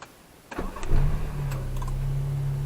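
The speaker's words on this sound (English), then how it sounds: "how to do the remote start" A car engine started by remote start, with a few sharp clicks, then the starter cranking and the engine catching into a steady, moderately loud idle hum.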